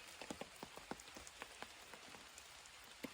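Rain falls on a surface on a warm day, scattered drops tapping irregularly over a soft, faint background hiss; no one speaks.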